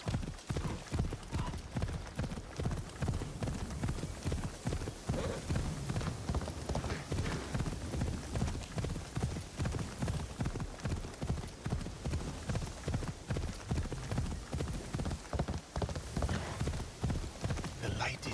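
Horse hooves clip-clopping in a steady, brisk rhythm during riding in the video game Assassin's Creed Shadows, continuous and fairly close over a bed of ambient game sound.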